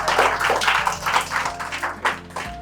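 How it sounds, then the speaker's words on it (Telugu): An audience claps in a steady patter at a Shivaji and Shambhaji costume contest for kids, moderately close, with a low electrical hum underneath. "ఒక్కసారి క్లాప్స్ కొట్టండి"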